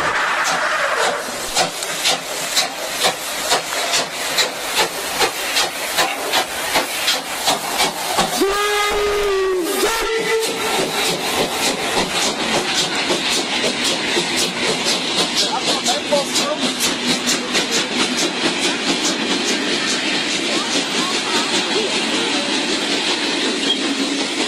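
A steam train chuffs in rapid, even beats with heavy hissing, and a long wavering steam whistle sounds midway before the rhythmic chugging carries on, loud and near, opening a radio show.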